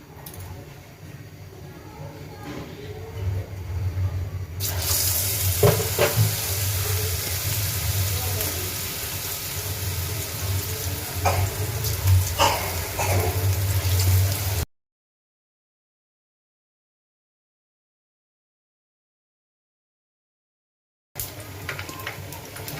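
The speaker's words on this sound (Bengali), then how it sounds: "পিঠা সবসময় যেন ডুবা তেলে ভাজতে হয়" Besan pitha deep-fry in a pan of hot oil over medium heat, giving a steady low sizzle with occasional crackles that continues for about fifteen seconds before cutting out.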